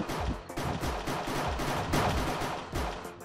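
Rapid gunfire in Minecraft's Hypixel Cops and Crims mode, a steady stream of loud, close shots in quick irregular bursts across the whole stretch, with no talking.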